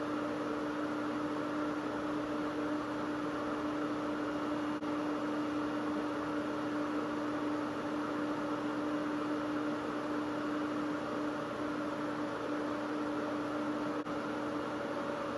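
A radiator cooling fan on a VW bus with a Subaru engine swap runs steadily in puller mode, giving a fairly quiet, even whir with a slightly higher-pitched hum held constant throughout.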